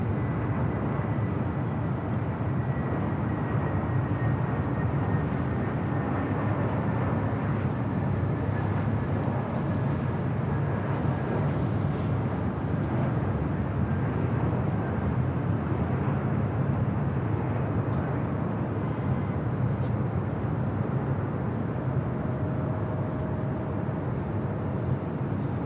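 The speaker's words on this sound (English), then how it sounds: "back to the north, we got that JetBlue A321 in the first mint livery" A JetBlue Airbus A321 in the first Mint livery at LAX, a continuous, even jet rumble with a faint high engine tone, heavy low-end noise throughout and no voices.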